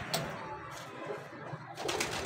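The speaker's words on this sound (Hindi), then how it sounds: "ये भी बहुत अच्छा कबूतर है" Soft, low pigeon cooing repeats in a steady murmur, with faint rustling and a few brighter chirps over close background noise.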